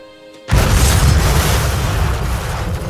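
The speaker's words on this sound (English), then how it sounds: "The explosion was deafening." A bomb goes off at a house's front door with a sudden, deafening boom that rolls into a heavy, sustained roar of debris and rumble, slowly fading.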